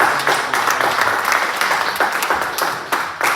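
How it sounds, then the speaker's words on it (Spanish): A church congregation applauding: close, uneven clapping with distinct individual claps standing out, continuing for a few seconds without speech. "denle un aplauso al Rey de Reyes y Señor de Señores"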